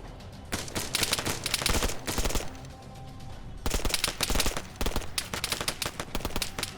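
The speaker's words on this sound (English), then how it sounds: "I'm in a pretty big firefight with these 2 guys right now." Rapid gunfire in an ArmA 3 firefight, with dense bursts of shots, automatic fire and fusillades that come in waves and break off briefly, loud and close with no talking.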